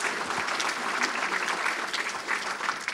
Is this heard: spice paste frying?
no